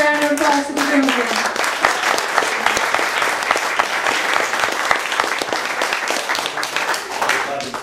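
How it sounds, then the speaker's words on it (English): Wedding guests give a sustained round of applause for the groomsmen during the reception speeches, a dense, loud clapping that holds steady throughout, with a voice briefly audible at the start. "Let's give a round of applause to the groomsmen."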